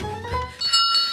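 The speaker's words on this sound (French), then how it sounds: "une cloche que les coureurs doivent faire sonner" A bicycle-style bell at a race checkpoint in a cartoon rings several times, bright ringing tones sounding close and clear over faint background noise.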